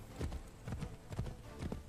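Hoofbeats of a galloping horse in the Assassin's Creed III video game thud in a steady, fast rhythm, about four strides in quick succession, moderately close against a muffled background.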